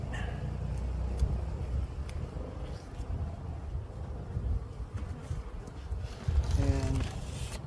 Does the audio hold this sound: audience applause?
no